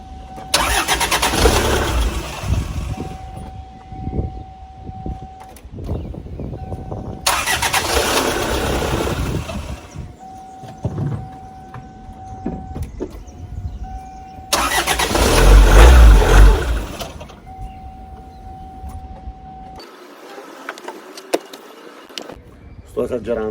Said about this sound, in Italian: riesce a fare partire la macchina senza alcun problema, addirittura senza batteria